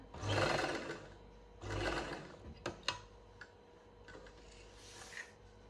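A sewing machine stitches a hip seam on a lined kameez in short bursts of whirring runs, with brief mechanical clicks and ticks between them, close and fairly quiet.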